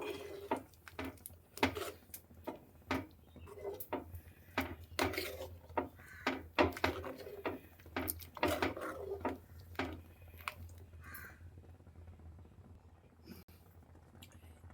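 Coconut paste stirred into a Kerala curry in a pot, with a string of soft scraping and knocking strokes from the spoon at close range that fade toward the end.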